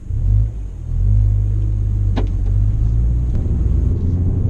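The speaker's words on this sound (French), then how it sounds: "ça fait un joli petit bruit avec la ligne d'échappement là" Peugeot 208 GTI 30th hatchback with its exhaust giving a steady low rumble, close and continuous, with a brief swell near the start and a few faint clicks over the idle.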